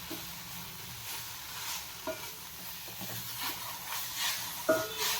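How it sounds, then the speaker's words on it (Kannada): Ridge gourd chutney ingredients frying and being stirred in a pan, a soft steady sizzle with scattered scraping stir strokes, fairly quiet and with no talking. "ಒಂದು ಹಸಿ ಹೋಗೋ ತನಕ ಹುರ್ಕೊಂಡ್ರೆ ಆಯ್ತು"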